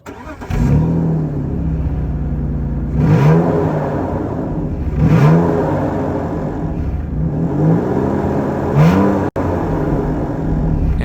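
A 1999 BMW E39 523i with its stock muffler, recorded right at the exhaust, idles with a steady hum and is revved about five times, each rise a short, smooth blip before settling back.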